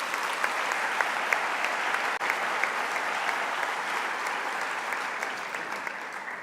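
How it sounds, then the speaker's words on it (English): A large audience at a formal annual memorial lecture applauds in a continuous, even wash of clapping that carries on for several seconds with individual claps standing out, with no speech over it. "please give a warm round of applause."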